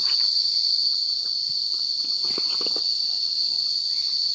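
A loud, steady, high-pitched buzz of cicadas fills the air continuously in Chiang Mai, Thailand, with faint shuffling and footsteps beneath it while mushrooms are foraged.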